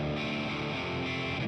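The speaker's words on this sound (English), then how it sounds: "it can break up and get super gritty if you push it" A gritty, heavily distorted electric guitar tone from an amp plugin pushed hard, one sustained thick chord ringing loudly and steadily on its own.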